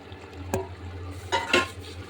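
Fried katla fish pieces are added to a simmering potato curry, with a low bubbling hum and a few soft splashes and pot contact sounds, close and fairly quiet.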